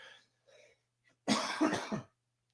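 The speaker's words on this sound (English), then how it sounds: "Excuse me for the coughs." One person coughs, a faint short cough first, then a louder burst of two or three harsh coughs up close, with a quiet room in between.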